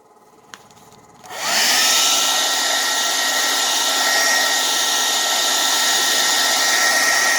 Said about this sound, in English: I'll get me a hair dryer.